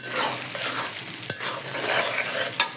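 Vegetables and noodles stir-fried in a pan, a loud steady sizzle with scraping stirring strokes and a couple of sharp utensil knocks against the pan.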